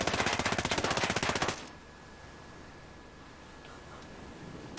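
An M4A1 fired on full auto in Ghost Recon Breakpoint, a rapid close burst of evenly spaced shots lasting about a second and a half that cuts off into quiet background hum, with no voices.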